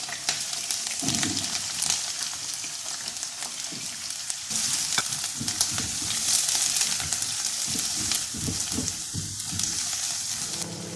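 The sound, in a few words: onion rings frying in a pan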